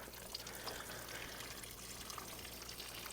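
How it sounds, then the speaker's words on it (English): Water trickles steadily out of laundry pressed down inside a tub in a truck camper, a soft, continuous dribbling wash that stays faint and even throughout, with no voices. "you can see when you push on it how much water comes out"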